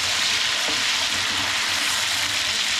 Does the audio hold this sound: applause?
no